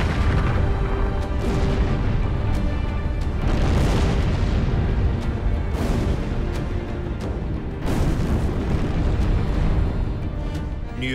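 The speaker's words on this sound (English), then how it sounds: "Bombs going in a minute." WWII bombs explode at Cassino, building into a continuous heavy rumble punctuated by repeated deep blasts, loud and sustained throughout.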